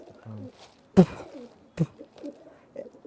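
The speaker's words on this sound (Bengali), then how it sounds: "দুইটাই কামাগার কবুতর এই একটা পেয়ার কামাগার আমার কাছে আছে" A pair of Kamagar pigeons gives soft, low coos in short bursts, close by, with a couple of sharp knocks and quiet murmured voices in the background.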